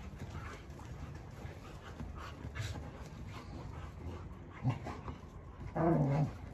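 A German Shepherd pants steadily and breathily, then gives a couple of short, whiny whimpers near the end.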